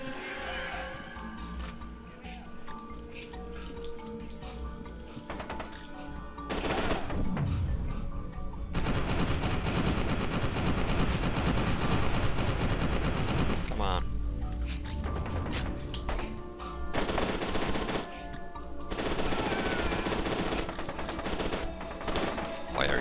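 Video game gunfire in F.E.A.R. 2, with sustained bursts of automatic fire and rattling shots that come in long loud stretches, interleaved with quieter moments and someone talking.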